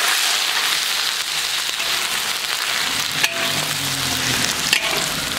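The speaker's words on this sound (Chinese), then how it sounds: "油热了，我们把这个鸡肉下进去。" Chicken pieces sizzle and fry in a small amount of hot oil in a wok, a steady, dense crackling hiss that stays loud throughout, with a couple of sharper pops partway through and no talking.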